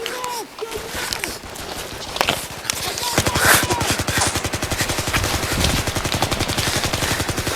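An M4 CQBR gel blaster fires bursts of rapid, evenly spaced mechanical clacks, sustained for about four seconds, close and loud, after some earlier handling sounds.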